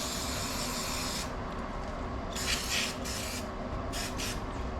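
A cleaning spray is sprayed in a garage during a KTM engine oil change, heard as a long steady hiss followed by several shorter bursts over constant background noise.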